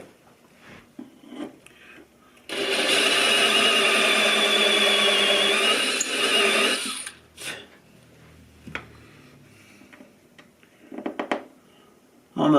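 A cheap reamer boring out the bridge pin holes of a 1938 D18 acoustic guitar, a close, steady rasping grind lasting several seconds, with quieter scrapes and handling knocks before and after.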